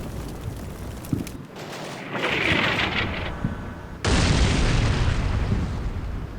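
Artillery shells exploding in Combat Mission Black Sea: distant booms and rumbling, a rising roar, then a loud sudden blast that sustains a heavy roaring wash to the end, with no talk.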